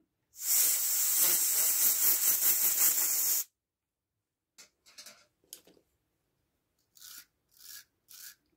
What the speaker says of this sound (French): Après j'y passe un tout petit peu la brosse métallique.